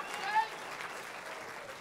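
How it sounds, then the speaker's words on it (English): Crowd applause and cheering at a U.S. Open pool final between Shane Van Boening and Ronnie Alcano, a soft, steady patter of clapping heard at a distance beneath a commentator's voice. "And listen to the crowd."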